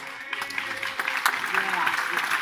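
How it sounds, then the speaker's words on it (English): Audience applause for the owners at a FutureNet business event, the clapping building from sparse to fuller over a couple of seconds, with voices in the room. "Give the guys a round of applause."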